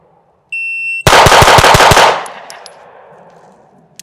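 Pistol fired in a rapid string of about six shots during a timed shooting drill comparing a Glock and a Staccato, loud and close, following a shot-timer beep and trailing into echo.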